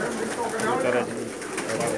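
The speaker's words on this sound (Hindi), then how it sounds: "बेशुमार तादाद में कबूतर हैं जी।" A large flock of Pakistani pigeons, more than ten thousand birds kept in a loft in Jeddah, coos in a dense continuous murmur that stays steady and close throughout.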